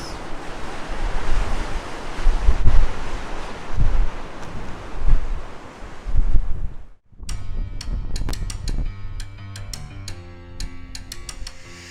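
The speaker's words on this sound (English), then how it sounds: "Listen to those quite modest waves and imagine how waves that are 100 feet or more sounds" Atlantic surf at Nazaré, Portugal rolls and crashes in a steady roar with several wave surges, then cuts to quieter water with sharp clicking and tonal sounds over it.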